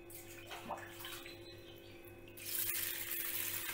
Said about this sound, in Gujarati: હવે આપણે દાળની અંદર પાણી ઉમેરીશું